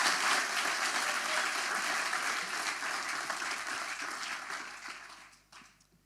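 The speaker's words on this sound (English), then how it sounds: "Big applause for Monica." A livestreamed tech-event audience applauds a speaker, the dense clapping fairly faint and steady before tapering off toward the end.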